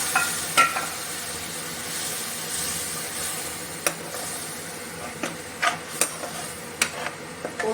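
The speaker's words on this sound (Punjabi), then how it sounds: "ਅਸੀਂ ਮਸਾਲਿਆਂ ਨੂੰ 2 ਮਿੰਟ ਭੁੰਨਾਂਗੇ" Spices roast in a pan with a steady soft frying hiss, punctuated by sharp scraping and tapping clicks of a spoon stirring, fairly quiet and without speech.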